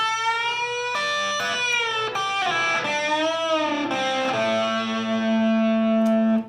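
Metal lead electric guitar playing a full measure on the third and fourth strings with string bends and slides, distorted sustained notes swooping in pitch, ending on a long held note, steady and unaccompanied.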